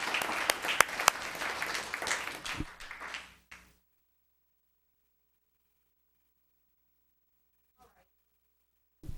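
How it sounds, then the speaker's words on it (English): Applause at a town council meeting fills a room for several seconds, then cuts off abruptly and leaves near silence. "Give him a round of applause."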